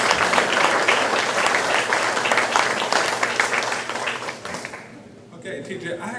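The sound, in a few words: audience applause at a comedy show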